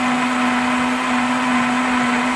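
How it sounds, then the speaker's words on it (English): A JR Ultra Touch 3 brushless induction blender runs at full speed through a jug filled to the maximum line with celery, apple chunks, ice and leaves for green juice, giving a loud, steady motor whir with a constant pitch and no talking. "The brushless motor, you can hear already it's quieter anyway."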